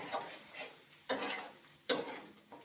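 Chicken being stir-fried with turmeric and chili powder for a Bengali chicken kosha: a few quiet scraping strokes of a spoon in the pan over a faint, low sizzle.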